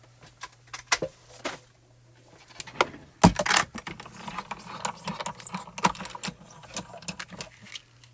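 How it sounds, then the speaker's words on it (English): A die cutting machine for clear stamp and die crafting works nearby, giving irregular mechanical clicks, ratcheting clatters and a louder grinding burst midway, with quiet gaps between the bursts. "let's bring the die cutting machine in"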